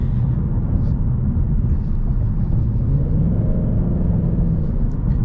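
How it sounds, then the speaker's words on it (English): Deep, steady V8 rumble from a 2024 Ford Mustang GT under light throttle taps, heard from inside the car, low and continuous with a slight swell in engine note partway through. "Even just tapping on the gas, this thing sounds so good."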